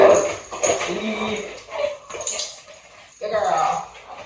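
An excited dog whimpers and yips over a toy during spin training, the high whines coming in several bursts close by and mixed with a person talking.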